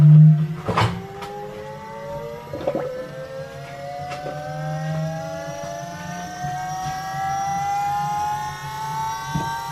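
An Astra electric power steering pump, disconnected from the steering column for a Datsun 1200 steering conversion, powers on with a steady, slowly rising motor whine, punctuated by a few sharp clicks.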